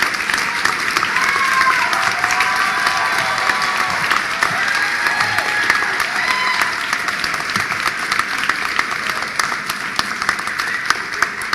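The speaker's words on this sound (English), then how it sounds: "Please give a round of applause for all of our graduates" A graduation commencement crowd gives sustained, dense applause for the graduates, a steady wash of clapping with a few cheers and whistles on top, loud and continuous throughout.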